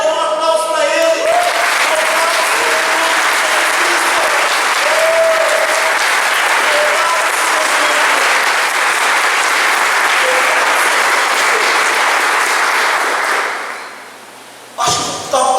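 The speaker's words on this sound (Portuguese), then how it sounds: "Oh, dê um aplauso para Ele." A church congregation breaks into loud, sustained applause that runs dense and unbroken for many seconds, with brief tonal voice or music traces at the start, then fades and cuts off near the end.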